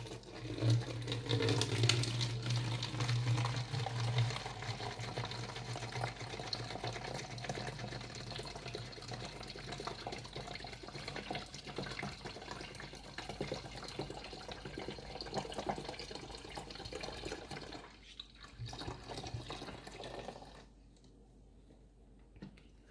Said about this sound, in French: prendre la bouteille vide et verser un quart de vinaigre